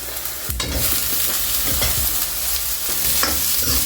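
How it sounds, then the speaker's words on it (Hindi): Long-sliced capsicum strips hit a sizzling pan for paneer Manchurian, giving a loud crackling fry with stirring thumps and scrapes across the few seconds, no speech. "अब मैं इसमें ऐड करूँगी शिमला मिर्च, जिसको मैंने लंबे साइज़ में काटा है इस तरीके से"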